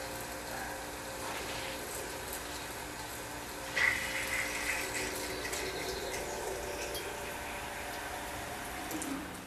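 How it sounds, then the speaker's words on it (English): Cold tap water runs steadily in a home-brewing setup while a pump circulates wort for a cream ale, a continuous broadband rush with a brief louder splash near the start. "And turn on the cold water."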